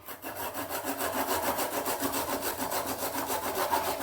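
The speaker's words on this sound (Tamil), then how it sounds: "இந்த வெங்காயத்தை இதில் அப்படி துருவி எடுத்துக்கலாம்" Onion grated by hand on a kitchen grater while making bitter gourd pakoda, a steady rhythmic rasping scrape repeating quickly and evenly, close and fairly loud with no talking.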